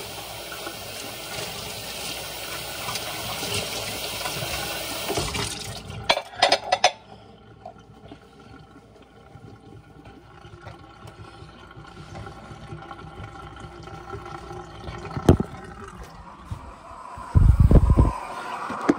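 A kitchen tap runs steadily into a sink during dishwashing for several seconds, then cuts off, leaving quieter room sound and a few later clatters.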